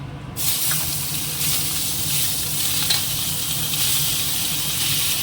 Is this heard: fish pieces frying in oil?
yes